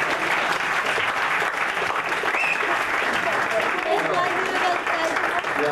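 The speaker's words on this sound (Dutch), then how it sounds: "Maar ik vind dat deze artiest toch wel een extra applaus verdient." A show audience gives an artist extra applause, a thick, even stretch of clapping at steady volume, with voices mixed in beneath the noise.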